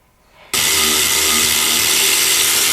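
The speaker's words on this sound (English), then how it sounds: "we're going to actually remove this bolt to the steering shaft." A power tool running on a Mercedes-Benz steering shaft bolt starts abruptly after a quiet moment and holds a loud, steady whirring drone, close up.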